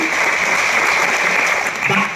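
Loud, steady applause from an audience at a motivational business event, continuous dense clapping close by throughout the short stretch.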